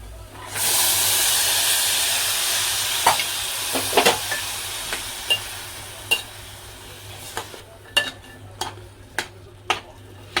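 Peas tipped into a hot pan of spices burst into a loud sizzle that slowly fades, followed by a run of sharp, regular spoon clinks and scrapes against the pan, no talking.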